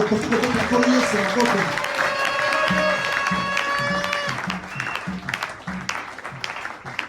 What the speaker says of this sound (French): On peut applaudir le Seigneur.